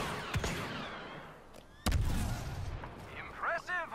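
A thrown explosive detonates in Star Wars Battlefront II with a sudden heavy boom that rumbles on, following earlier sharp shots, while a voice speaks near the end.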